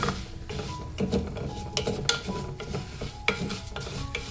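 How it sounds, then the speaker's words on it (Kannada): Moong dal frying in a pan on a medium flame, a close, busy mix of crackling sizzle and frequent spoon scrapes and knocks against the pan, no talking. "ಇದನ್ನು ಚೆನ್ನಾಗಿ ಫ್ರೈ ಮಾಡ್ಕೊಳ್ಳೋಣ"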